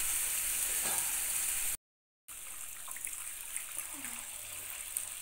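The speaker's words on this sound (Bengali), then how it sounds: "এবার জল ঢেলে দিচ্ছি।" Water poured into a pan of frying spices while cooking a fish curry with potatoes, brinjal and lentil dumplings gives a steady hissing wash that breaks off briefly, then continues as quieter bubbling and trickling, close by.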